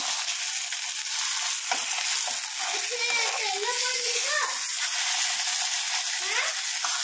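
Fish fries in hot oil with a steady, bright hiss of sizzling that runs throughout. Faint voices, including a child's, murmur in the background.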